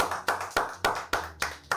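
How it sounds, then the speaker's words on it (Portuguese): Audience applause greeting a guest, a master baker, on a Brazilian podcast: six sharp, evenly spaced clap-like bursts about a quarter second apart, moderately loud with no talking. "Uma salva de palmas."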